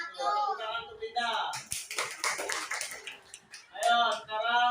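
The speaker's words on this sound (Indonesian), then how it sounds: "Tepuk tangan untuk Dinda" A classroom audience claps for a student in a short burst of applause between spoken words, with voices heard before and after.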